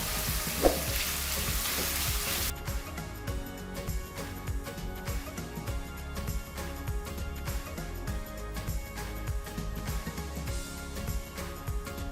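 A quarter kilo of chicken breast sizzles in hot melted ghee, starting with a loud hiss as it hits the pan, then settling into steady crackling frying with occasional stirring noises.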